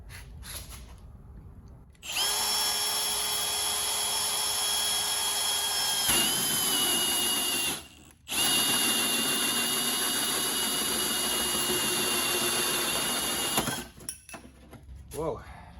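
A power drill boring a hole through the body of a Land Rover Discovery for a snorkel, whining steadily and loudly for long stretches with a brief pause between runs, close by.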